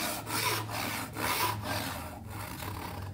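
Hand saw cutting dovetail tails in wood with long, even strokes, a close rhythmic rasp repeating about every half second, each stroke separated by a brief pause.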